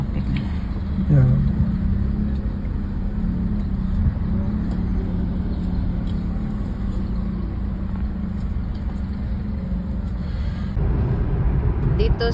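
Busy city road traffic rumbles steadily in Kuwait City on the way to Sharq, a continuous low engine drone from a moving vehicle, with people chatting over it throughout.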